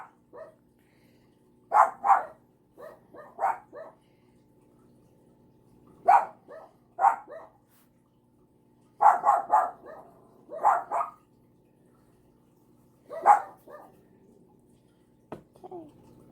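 Dogs startled by a cat falling out of a box bark in short clustered bursts, sharp and fairly close, with quiet pauses between the volleys.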